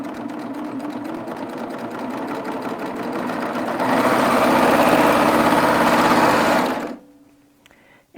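A Baby Lock serger runs steadily, gathering muslin fabric with a loud, close mechanical whir that speeds up partway through, then stops abruptly near the end; no voices.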